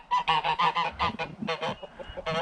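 Several geese on a farm honk loudly and repeatedly, close by, in a rapid overlapping series of harsh calls.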